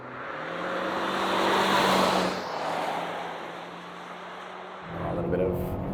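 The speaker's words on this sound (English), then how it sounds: "It's a fairly eager engine. Like it makes a lot of noise, but it gets up and moves." A 2024 Mazda CX-5 SUV accelerates hard in sport mode around a test track, its engine a loud, steady drone that swells over the first two seconds, dips, then rises again near the end.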